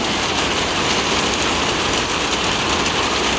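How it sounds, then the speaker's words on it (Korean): Steady heavy rain pours down in a dense, continuous hiss, loud and close, with no voices. "그냥 비 소리도 좋다. 시원하게 빗소리도 좋고"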